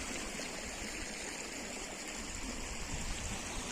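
Water rushing steadily in a stream near Cherrapunji, a constant broadband gush with no breaks, fairly faint and with no voices.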